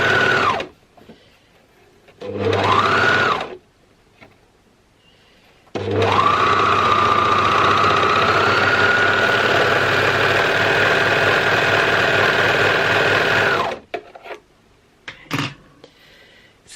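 An overlocker stitches a stretch neckband onto dress fabric, its motor whirring in a short burst and then a steady, close, buzzing run of several seconds before stopping, followed by faint handling noises.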